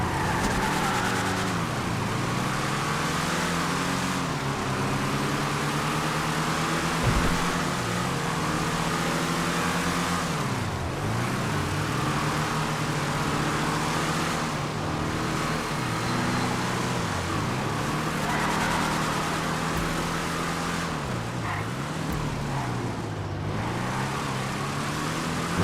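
Car on a test drive in a game, engine droning steadily with rising and falling revs as it shifts through gears, loud and continuous, with faint tire skids.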